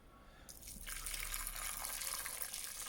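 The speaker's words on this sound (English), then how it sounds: "we're now going to cover this with hot water, boiling water." Boiling water pours over chicken in a pot for stock, a steady gushing splash that starts abruptly and continues close and quiet with no talking.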